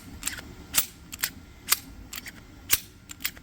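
Dry-fire function test on a firearm fitted with a V2 shoe and V1 trip, giving a string of crisp, close mechanical clicks spaced irregularly about every half second, alone and with no voices.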